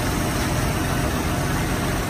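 A steady, low engine idle from a Chevrolet Fleetline runs evenly throughout, a smooth continuous rumble with no revving or talk.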